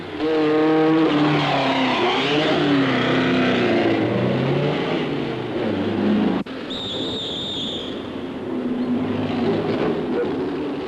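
A 1972 Monte Carlo Rally Autobianchi of the German Kleber team drives hard on a mountain road, its engine loud and close. Revs rise and fall through gear changes for the whole stretch, and a sharp break comes partway through.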